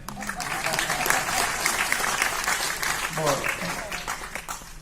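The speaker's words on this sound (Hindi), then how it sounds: "आप तालियां बजा सकते हैं।" Applause from a Hindi poetry recital audience, a dense, sustained clapping wash that fills the whole stretch with steady intensity.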